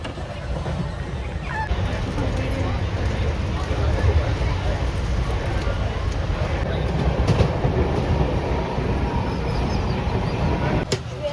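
A passenger train from Bengaluru to Goa runs on its rails, heard from inside as a steady rumble with a rhythmic clatter of wheels, fairly loud throughout, with voices of passengers talking over it.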